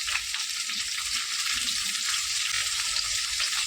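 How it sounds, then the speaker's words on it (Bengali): Taro and potato pieces fry with salt and turmeric for a Bengali hilsa curry, giving a steady, close, dense sizzle with faint stirring underneath and no voices. "এবার কচু আর আলুটা ভালো হবে যাতে নুন আর হলুদ দিয়ে শুধু আমি ভালো করে কষিয়ে নেবো"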